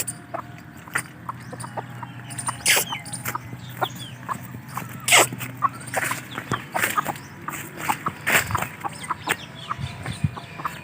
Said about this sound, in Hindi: मैं आपको मुर्गा दिखा रहा हूँ